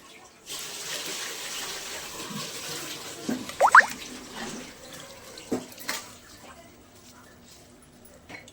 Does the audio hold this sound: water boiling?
yes